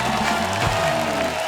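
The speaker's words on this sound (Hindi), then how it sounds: "जोरदार तालियां हो जाए हमारे मेहमानों के लिए" Studio audience clapping for guests on a comedy talk show, a dense burst of loud applause filling the whole short moment.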